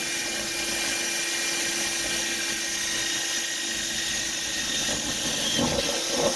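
Steady high-pitched whine of a power drill boring holes in a trailer wall for a shelf bracket, running continuously and close by, with a slight rise near the end and no voices.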